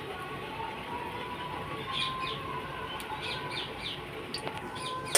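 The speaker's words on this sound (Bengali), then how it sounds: "সকালবেলার পাখির ডাকটা শুনতে দারুণ লাগে কি সুন্দর পাখি ডাকছে" Morning birds chirp and call faintly in the distance over a steady outdoor background hum, with scattered short tweets throughout and no one speaking.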